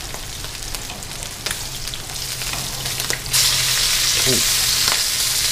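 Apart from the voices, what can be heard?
fish fillet frying in a pan, flipped over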